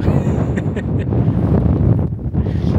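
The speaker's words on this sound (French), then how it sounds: "Et là, oui, là il y a du vent" Strong wind gusting across a cliff top in the Faroe Islands, roaring and buffeting the microphone loudly throughout.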